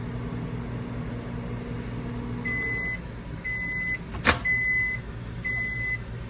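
A microwave oven heating an egg cooker hums steadily at close range, with several short electronic tones and one brief sharp click partway through and no voices.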